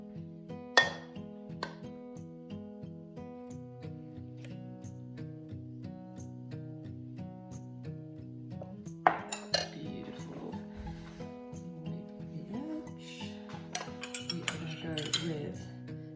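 A metal ladle clinks against bowls while cauliflower and harissa soup is served, giving faint, scattered taps and clinks that sit over a soft steady tonal background, with a brief cluster of louder knocks midway.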